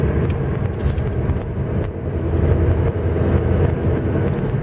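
A VAZ 1.6 8-valve engine fitted with a 56 mm throttle runs steadily from inside the moving car, a loud, even drone with road rumble and no voices.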